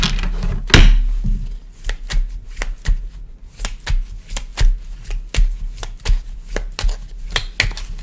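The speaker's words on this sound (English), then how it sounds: "One more shuffle." Tarot cards are shuffled repeatedly up close, a steady run of crisp riffling snaps and flutters with one heavier thump near the start.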